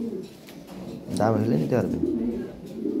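Farm-bred pigeons, Lahori and fancy breeds, give a short throaty coo close by, under someone speaking.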